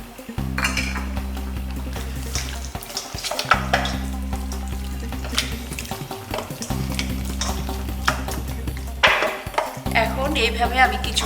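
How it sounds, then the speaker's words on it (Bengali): Gram flour (besan) is stirred and roasted in a pan, with repeated scraping and clinking of a utensil against the metal over a steady low kitchen hum, close and continuous. "বেসনটা একটু টেলে নিচ্ছি যেন ডালের কাঁচা গন্ধটা না থাকে"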